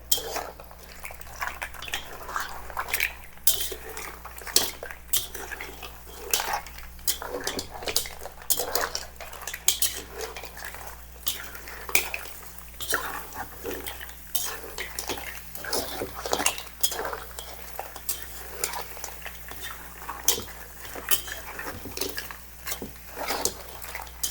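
Washed rice being stirred in a seafood paella pan, a busy stream of close metallic scrapes and clinks from a utensil against the pan with wet, grainy shuffling, steady throughout with no talk.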